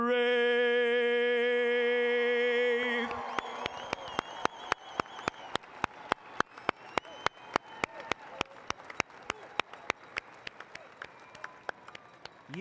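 At a Declaration of Independence reading ceremony, a held final note of the national anthem ends and the audience breaks into applause, with crisp individual claps standing out as it continues.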